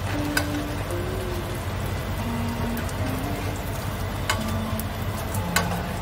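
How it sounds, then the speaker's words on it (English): Anchovy chips stir-fried in hot oil until crisp: a dense, even sizzle runs throughout, with a few sharp clicks of the spatula against the pan. "Stir fry until crispy."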